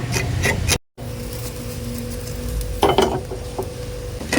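Turmeric, coriander and other spice powders being stirred as they roast in a pan for Kerala-style beef kala, giving a steady close scraping rustle with a brief dropout and a few louder scrapes near the end.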